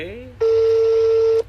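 A single long, steady telephone keypad tone sounds for about a second, loud and close, preceded by a brief voice.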